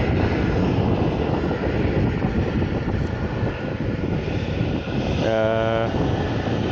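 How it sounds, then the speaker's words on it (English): An Embraer E170LR airliner of Eastern Airways taxis at Manchester Airport, giving off a steady, fairly loud engine roar with wind buffeting the microphone. A brief tonal whine swells near the end. "the aircraft is taxiing. It's an Embraer."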